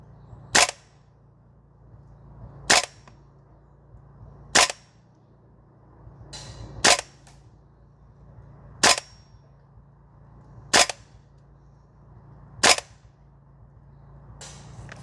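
A SCAR L gas blowback airsoft rifle fires single shots on an outdoor range: seven sharp, loud cracks spaced about two seconds apart over steady quiet background hiss.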